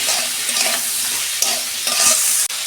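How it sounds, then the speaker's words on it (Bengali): Bitter gourd with salt and turmeric fries in a pan, giving a loud steady sizzle broken by scraping stirs and a sharp clank of the utensil near the end. "ভেজে নেবো আমি 2 মিনিট।"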